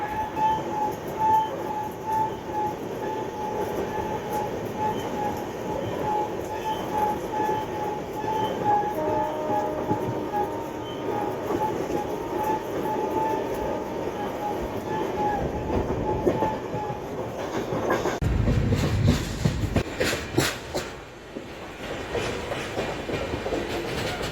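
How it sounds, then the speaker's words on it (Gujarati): A passenger express train runs steadily with a continuous rumble and a faint whine, then wheels clatter and rattle louder toward the end. "તો રખિયાલથી પણ નીકળી ગઈ છે ટ્રેન"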